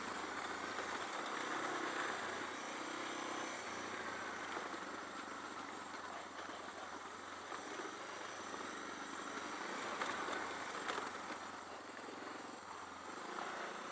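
A stock Suzuki DR650 motorcycle crawls slowly downhill in first gear on a dirt trail at Metcalf Motorcycle Park, its engine a steady, close, rough drone that holds fairly even throughout with no talking.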